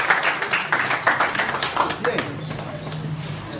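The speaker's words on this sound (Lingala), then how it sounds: "Est-ce que vous pouvez applaudir?" A brief burst of hand clapping from a crowd at a football club general assembly, close and fairly loud, fading after a couple of seconds as a voice begins speaking underneath.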